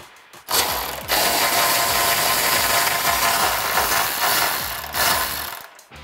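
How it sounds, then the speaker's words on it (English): A 13mm socket ratchet removes an exhaust hanger bolt at the back of a 2005-2010 Mustang GT, giving a continuous, close, loud run of rapid ratcheting clicks for several seconds with a brief pause near the start. "Now grabbing your 13mm socket, remove the hanger from the back end of the Mustang."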